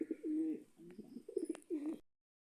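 Pigeons coo softly at close range, with several low, rolling coos in a quiet setting and a faint chirp mixed in.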